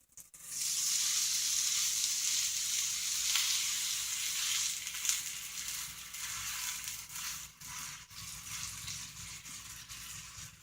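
A breakfast sandwich sizzles in a skillet, starting with a sudden hiss and holding a loud, steady crackling fry that eases slightly toward the end.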